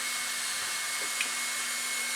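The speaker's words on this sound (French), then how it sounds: "les ventilos on les entend un petit peu" Cooling fans on a Team Magic E5 RC car whir as a steady, faint, continuous hiss with a thin whine running through it and no other sound.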